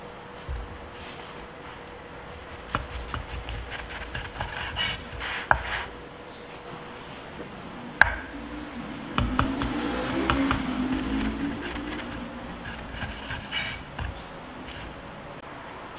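A knife rubs and scrapes mayonnaise across slices of bread while a bacon, lettuce and tomato sandwich is assembled, giving soft, close rasping strokes in irregular bursts with faint clicks and no talking.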